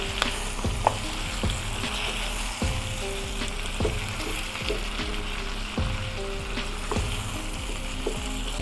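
Butternut squash frying with onions in a pan, a constant close sizzle with sharp periodic clicks and knocks from stirring, steady and loud with no talking.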